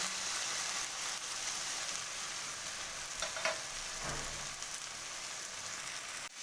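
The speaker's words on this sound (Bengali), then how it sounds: "এবার আমি ভেজে রাখা আলু আর ভেন্ডিগুলো অ্যাড করে দিলাম" Fried potatoes and okra, added back to a pan of masala for a Bengali-style dry curry, give off a steady close sizzle and crackle with a few scraping stirs partway through.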